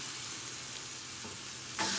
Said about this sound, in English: I can hear it sizzling a little bit now